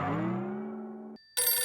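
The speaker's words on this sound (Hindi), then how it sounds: "टंकी का फोन आ गया, भैया का फोन" A telephone ringtone plays loud and close, a sustained harmonic tone that drops out briefly and then resumes with a brighter melodic chime, with no voices over it.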